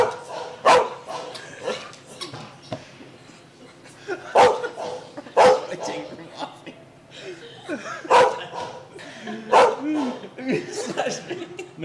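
A dog barks repeatedly in sharp, loud bursts spaced a second or two apart, mixed with yips and whimpers, while a person talks over it.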